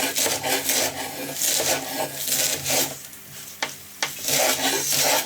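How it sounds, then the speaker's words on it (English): Knife thinly slicing a bunched pile of wild garlic leaves on a wooden chopping board, a close series of quick crisp rasping cuts in rhythmic bursts with brief pauses. "push it all together so we can thinly slice it as best we can"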